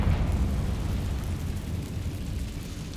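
Confringo blasting spell going off in Hogwarts Legacy, a deep, rumbling explosive boom that fills the whole stretch with sustained low roar, loud and close, with no voices.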